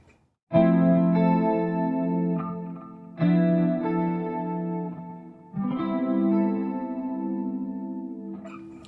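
Electric guitar run through chorus and distortion effects strikes three sustained chords over a 2-5-1 progression, each ringing out long before the next, close and full with no talking.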